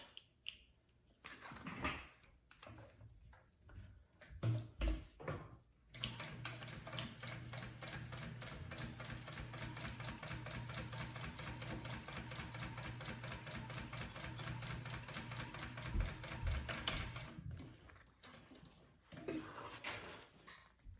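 A sewing machine top stitches a bag pocket, a steady rapid ticking run of about eleven seconds, framed by fabric handling and clicks before and after.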